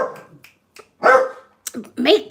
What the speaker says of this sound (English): There's a wee dog there.